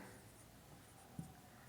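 A pen scratching softly on paper while an accounts entry is written by hand, faint and steady with one small tap near the end.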